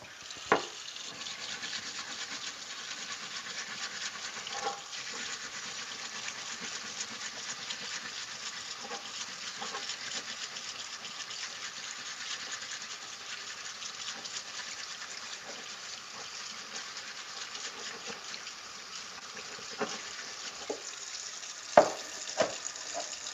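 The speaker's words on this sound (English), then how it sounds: "I'm going to wash this one off." Running water washes steadily over an object for a long stretch, a constant hissing spray with occasional faint knocks and clunks, no talk.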